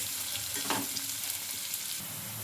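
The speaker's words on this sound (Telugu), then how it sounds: "బాగా ఫ్రై చేసుకోవాలి" Sliced onions and green chillies fry in a pan, a moderate, even sizzle with a soft stirring sweep partway through, heard alone without talk.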